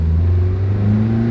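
A Toyota car engine fitted with a new mass airflow sensor revs as the car accelerates, a loud close steady drone with a low tone rising slightly in pitch, brief and without talk.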